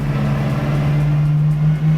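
A cheap exotic car's engine pulls hard in fourth gear, a loud, close, steady drone with a strong sustained low tone throughout and no talking.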